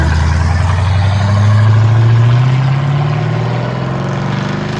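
A 1995 Chevy Caprice Classic with a 5.7L V8 and true dual straight-pipe exhaust idles up close, a loud, deep, continuous rumble that swells briefly in pitch as if lightly revved, then settles back.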